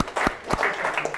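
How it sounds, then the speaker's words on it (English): Brief applause from an audience at the end of an agile conference talk, a short burst of scattered clapping with a few sharper individual claps close by, lasting just over a second. "Round of applause at the end there."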